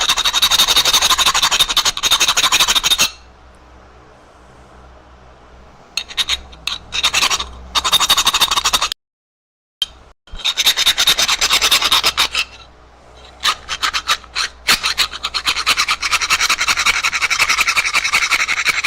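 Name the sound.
rasp filing material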